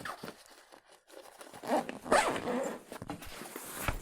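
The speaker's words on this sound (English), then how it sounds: "Close that, zip that up." A padded sneaker accessory bag being zipped shut, with several rasping zipper pulls that grow louder and more continuous toward the middle and end, heard up close without talk.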